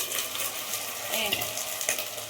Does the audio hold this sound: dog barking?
no